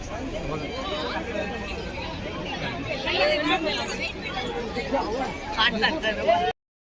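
Packed ISKCON temple crowd: constant murmur of many overlapping voices close around, swelling a little louder toward the end before it cuts off abruptly.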